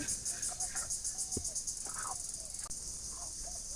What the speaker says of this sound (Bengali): এই দিন আইলে এই ঝিঝি পোকাগুলো খালি ডাকতেই থাকে